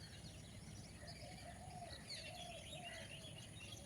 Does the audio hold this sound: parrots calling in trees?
yes